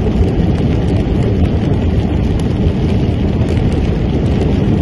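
Heavy rain pours down during a desert flood at KFUPM, a dense, unbroken roar of water with no pauses and no voices.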